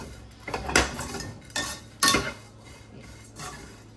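Poppy seeds and melon seeds roasting in a pan, heard as a few sharp metallic scrapes and clinks of a spoon stirring against the pan, spaced irregularly and close up.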